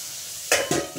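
Spices sizzle in oil in a kadai, a quiet steady hiss and then two quick scraping stirs that make the frying surge louder.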